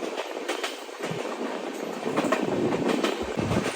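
An Indian Railways Duronto Express runs at speed out of Ghaziabad Junction, heard from inside the coach as a steady rumble with a continuous rattle and a rhythmic clickety-clack from the wheels.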